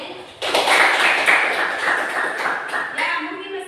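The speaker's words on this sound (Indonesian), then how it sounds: "tepuk tangan untuk Roni" A classroom of students bursts into applause after a classmate answers, a dense round of clapping that starts abruptly and continues for a few seconds.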